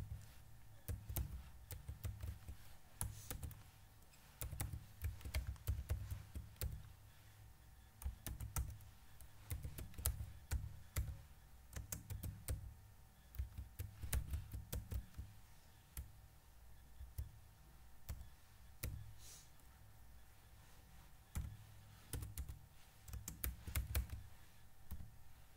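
Typing C++ code on a computer keyboard, soft quick key clicks in irregular bursts with short pauses, close and quiet throughout.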